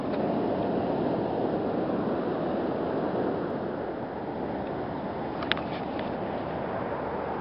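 Ocean waves wash steadily against a rocky shoreline, a continuous broadband roar with no distinct breaks and faint wind at the microphone, heard alone.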